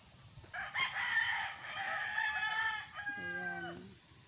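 Fighting cocks crow in a rural yard shaded by trees, two overlapping cock-a-doodle-doo calls close by, the second ending in clear stepped notes, against a faint background.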